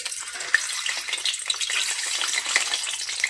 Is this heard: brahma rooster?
no